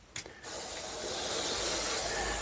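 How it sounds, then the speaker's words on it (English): A spray bottle mists water over egg incubation enclosures, a few quick pumps followed by a steady close hissing spray that holds loud to the end. "So the maintenance that we do is we spray down the enclosures a little bit."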